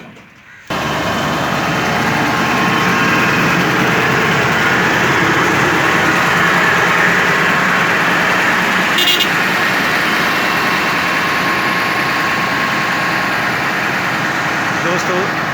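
A silage making machine runs continuously at a farm, a loud, steady mechanical engine roar that starts abruptly after a brief quiet moment and holds evenly to the end, with a short clank midway.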